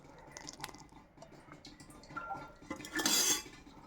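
A spoon works through a spiced yogurt batter in a bowl, with soft wet squelches and light clinks of metal against the bowl, building to a brief brighter scrape near the end. No one speaks.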